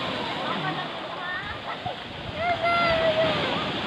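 Large ocean waves at a beach, a steady broad rush of surf and wash with voices talking faintly over it.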